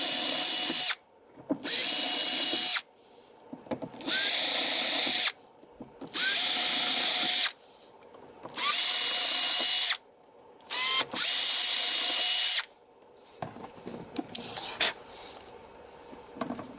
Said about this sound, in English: So I'm just going to drill the holes